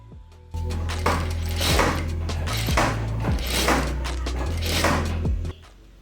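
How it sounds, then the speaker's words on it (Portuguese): Jack A4E industrial electronic straight-stitch sewing machine running in short bursts, a steady mechanical hum with rapid needle chatter, stopping and restarting with low motor tones between runs, close up and without talk. "toda vez que a gente costurar, a agulha vai ficar parada em cima"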